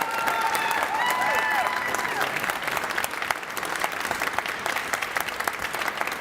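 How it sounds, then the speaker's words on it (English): Audience applause at a university business competition, a full round of clapping with a few cheers that starts strong and thins out toward the end, with voices mixed in. "Let's give her a big round of applause."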